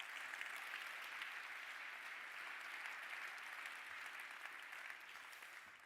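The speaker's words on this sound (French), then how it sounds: "Vous pouvez tous applaudir votre histoire ce soir." Sustained audience applause from a crowd at an anniversary event, a dense, steady wash of many hands clapping at an even level for the whole stretch, with no voices standing out.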